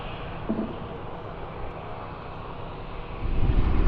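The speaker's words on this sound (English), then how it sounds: "That is close, very close formation flying." Steady roar of aircraft engines as planes fly in close formation at the Farnborough International Air Show, a broad continuous drone that swells louder toward the end.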